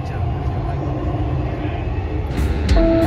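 Dubai Metro train at the platform of Airport Terminal 3 station, a steady loud rumble of the train with faint chimes near the end; people speak over it.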